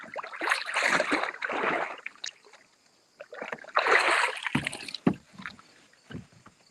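A person climbs into a canoe on a creek, with knocking hull thumps, water sloshing and gurgling in two bursts and a few sharp bumps close by.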